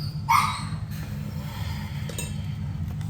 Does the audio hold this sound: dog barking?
yes